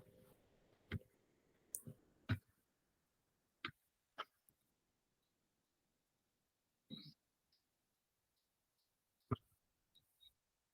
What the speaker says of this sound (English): We'll click on the send again.